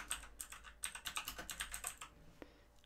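Fast, uneven keystrokes clatter on a computer keyboard while code is typed in a quick burst lasting about two seconds, then stop; close, quiet, and without speech.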